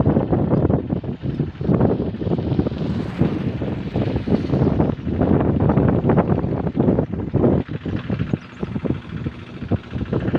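Strong wind blowing across rain-flooded farm fields after a downpour, buffeting the microphone in a loud, continuous roar with gusty swells and no speech.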